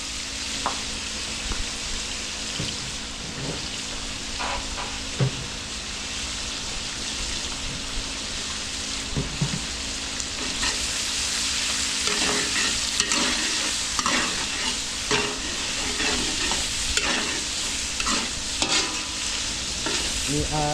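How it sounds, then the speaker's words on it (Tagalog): Meat sautés in a hot pan with a loud, continuous sizzle and frequent stirring scrapes, growing busier and louder in the second half. "gigisa lang natin na mabuti yung saog natin yung karne"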